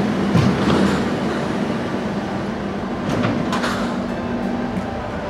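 A metro train pulls into a station, its loud steady rumble and rolling hum filling the space, with brief squeals and rattles near the middle and a faint whine holding underneath throughout.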